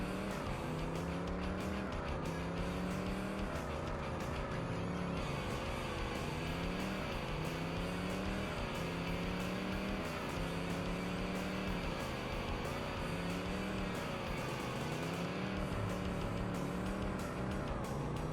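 Hot rod race car engine in a racing video game, the revs droning loud and continuous, rising and falling through repeated gear shifts with no talk.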